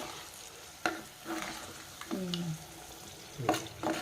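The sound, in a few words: onions and green chillies frying for palak tomato curry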